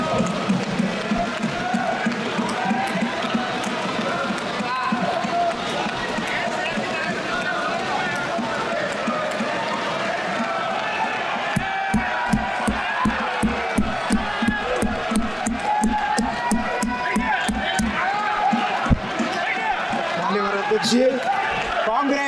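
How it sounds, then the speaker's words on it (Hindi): An audience in a parliamentary chamber claps in a rapid, rhythmic burst that builds to thumping beats, with a crowd murmur and voices underneath throughout. "मैं रिक्वेस्ट करूंगा आप सब ताली बजा के पेट के उनका दम दिखाएं"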